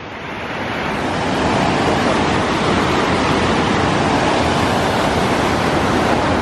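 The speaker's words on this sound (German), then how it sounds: "Wunderschöner Wasserfall und ein großer Wasserfall." A large waterfall in Norway roars as a dense, steady rush of falling water that swells up over the first second and then holds loud and constant.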